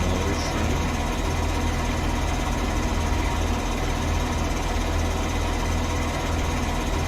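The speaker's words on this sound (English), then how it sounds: "Let me know if the tractor's too loud." A tractor engine idles in Farming Simulator, a loud, steady, dense mechanical drone with fine rapid vibration that holds unchanged from start to end.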